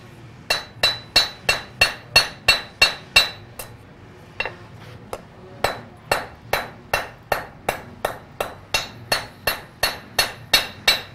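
A blacksmith's hammer rings out sharply on a knife handle, a steady run of evenly spaced metallic blows, then a short pause with a few lighter taps before the rhythm resumes, loud and close.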